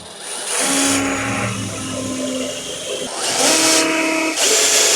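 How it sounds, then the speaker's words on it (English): Two bursts of a power drill with a 3/8 bit whining as it bores through metal on a 1967-1972 Ford F100 hood, each lasting a couple of seconds, close by and loud, with a brief pause between them. "Let's drill those out now"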